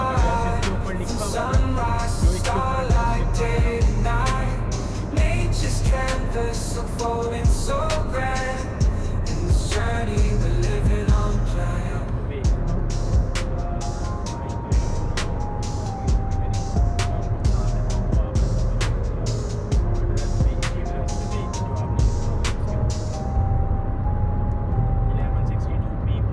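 A car on a long night drive, its engine and road rumble a constant loud low drone throughout with music playing over it.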